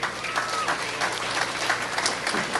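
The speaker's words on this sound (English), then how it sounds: "Let's give them a round of applause." Audience applause at a Kentucky Senate race political event, a steady round of clapping from a moderately sized crowd with a few voices underneath.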